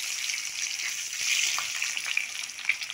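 Boiled eggs fry in hot oil in a pan, browning for an egg curry, with a steady close hiss and sizzle and a few small pops near the end.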